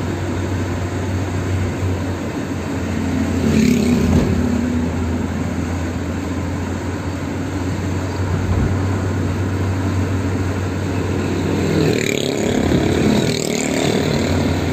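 Steady engine drone fills the cabin of a car driving through the morning streets of Hyderabad's Latifabad area, with a continuous low hum and a couple of louder passing swells.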